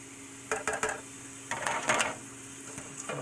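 Antipasto salad with green olives and pasta being tossed in a bowl, soft clattering and squelching in a few short bursts close by.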